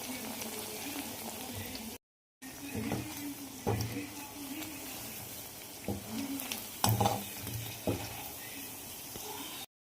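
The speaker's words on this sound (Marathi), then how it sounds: "बाकीचे जे उरले आहेत ते पण असे छान कुरकुरीत तळून घेते मी." Medu vada, round lentil fritters, frying in hot oil in a kadai, a steady bubbling sizzle with occasional stirring clinks and brief pauses, heard at close range.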